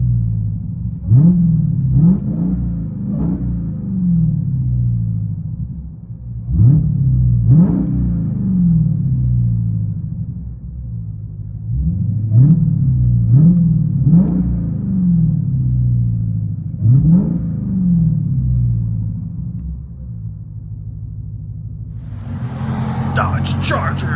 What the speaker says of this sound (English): Dodge Charger Hellcat wide body SRT HEMI, sexy beast, fully straight pipe.